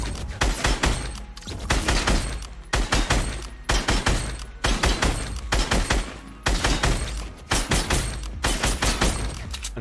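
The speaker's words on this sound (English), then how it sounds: "here you can practice with these robots" Rapid bursts of automatic gunfire in Fortnite ring out as practice robots are shot, loud repeated volleys in close rhythmic clusters with short pauses between.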